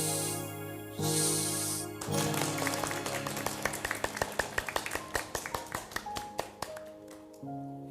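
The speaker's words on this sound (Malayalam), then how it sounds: "യോ യോ ക്ലാപ്പ് ഗോ എന്ന് പറയുമ്പോൾ നല്ല കൈയ്യടി കൊടുക്കണം" Young children clap their hands at a church children's gathering, sharp rhythmic claps that speed up and grow denser over a sustained musical backing before thinning out at the end.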